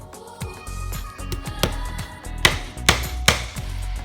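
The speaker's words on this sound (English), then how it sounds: "So about 1 inch up from the bottom of this piece, we're going to pre-nail" A hammer pre-nailing nails into a wooden box piece, a quick series of sharp ringing taps, about a dozen strikes with a few heavier blows near the end, close by and alone.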